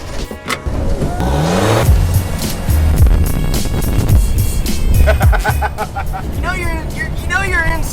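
A diesel Mahindra ROXOR UTV drives along a dirt trail under trees, its engine droning steadily while rattles and clanks come and go, with people talking over the noise throughout.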